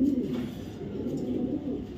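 A racing pigeon coos softly and continuously nearby, a low rolling burble repeating without pause, heard alone without speech.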